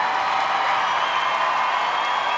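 Dense crowd roar and applause filling the Westminster Dog Show arena for an Old English Sheepdog in the herding group, a steady, loud wash of cheering and clapping throughout.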